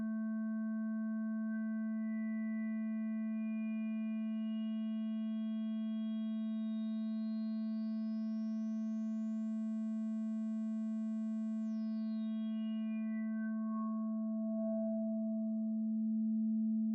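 Steady synthesizer sine tone patched in VCV Rack, with a stack of harmonics above it that shift and sweep slowly before thinning out, sustained and even throughout.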